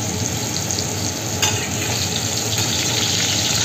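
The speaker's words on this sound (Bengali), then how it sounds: "সব সবজিগুলো ভেজে নেব।" Cut vegetables, including pumpkin, fry in hot oil in a pan, giving a steady dense sizzle with light stirring and a few soft clinks, and no voices.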